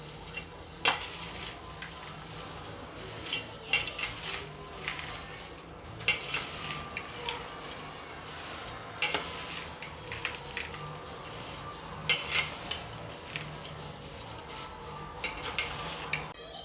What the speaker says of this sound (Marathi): आता हे सर्व आपल्याला अलगद हाताने मिक्स करून घेऊ आपण